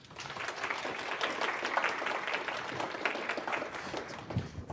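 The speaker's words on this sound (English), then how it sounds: "Round of applause, I think." A conference audience applauds a speaker taking the stage for a talk on server-driven cross-platform UI, a full, steady clapping that carries on evenly to the end.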